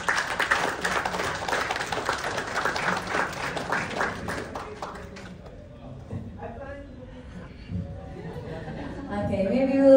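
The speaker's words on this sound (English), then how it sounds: "Let's give him a big round of applause" Audience clapping at a news channel grand launching, a burst of applause for the first few seconds that fades out as a voice talks and murmuring continues.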